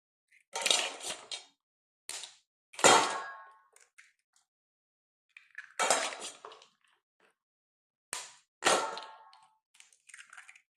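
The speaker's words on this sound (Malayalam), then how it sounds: "അതിലേക്ക് നമുക്ക് ഈ മുട്ട പൊട്ടിച്ചൊഴിക്കാം" Eggs cracked against a dry mixer jar for a Christmas plum cake batter: a run of sharp, close clinks and taps in short bursts with pauses between, no talking.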